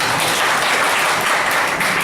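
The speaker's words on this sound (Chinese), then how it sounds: "大家掌声鼓励一下" Dense, steady audience applause fills a tech-conference room after a lightning talk on Xcode 7 UI testing, an even wash of many hands clapping for about two seconds with no voices over it.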